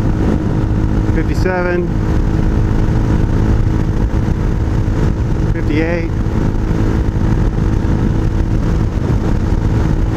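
A Hawk 250 motorcycle fitted with an aftermarket exhaust is ridden at highway speed, its loud, steady engine drone mixed with wind rush and a rider speaking briefly twice over it.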